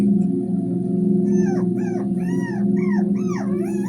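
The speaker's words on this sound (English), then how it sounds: "That's my little pup." A young puppy whimpers and whines in a run of short, high, wavering cries, close and clear over a steady low hum.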